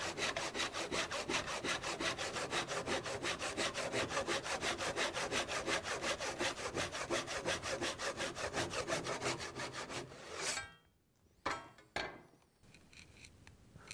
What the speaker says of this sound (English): Now it's important just to keep your saw nice and level as you go down, otherwise you'll end up digging into your bench or snagging the back of your mitre box